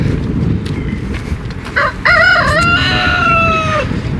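A rooster crows loudly and close by, a long drawn-out call rising then trailing off, over a steady background hum.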